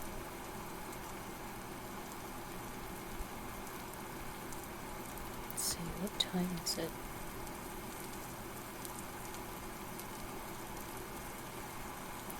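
Steady rain pours down in the survival game Vintage Story, a constant hissing wash that runs the whole time beneath someone speaking.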